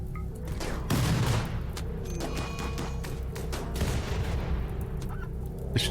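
Mortars launching and firing in the video game RimWorld, a dense fusillade of thumping booms and crackling blasts that keeps going for several seconds.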